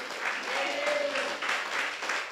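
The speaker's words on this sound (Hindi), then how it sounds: "ताली बजाइए जोर से एक बार, आमीन।" A church congregation claps loudly and steadily in sustained applause at a worship service in Itanagar, Arunachal Pradesh, with faint voices mixed into the dense clapping.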